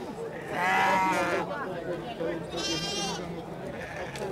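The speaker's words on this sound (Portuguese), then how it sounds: "E olha a ovelha aqui, ó." Sheep bleat at a livestock market in Cachoeirinha, Pernambuco, two loud wavering calls rising close by, while vendors chatter and haggle over prices around them.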